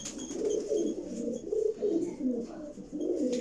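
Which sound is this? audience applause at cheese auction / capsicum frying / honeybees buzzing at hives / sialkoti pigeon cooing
sialkoti pigeon cooing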